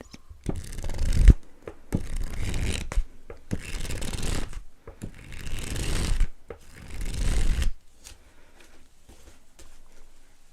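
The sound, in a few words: book pages being turned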